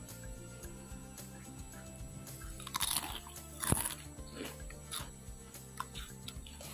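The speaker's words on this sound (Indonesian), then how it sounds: "aku kasih dengar ya bunyi kriuk-kriuknya." Close, crisp crunching of fried cassava balado crackers, with two louder bites and steady chewing crackles over about seven seconds, no talk.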